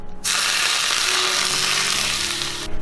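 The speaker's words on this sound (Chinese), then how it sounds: "全部剁碎后泼上热油" Hot oil is poured over freshly minced ginger, garlic, scallion and cilantro for a seafood dipping sauce, giving a loud, close, hissing sizzle that bursts in suddenly, holds steady for about two and a half seconds and then cuts off.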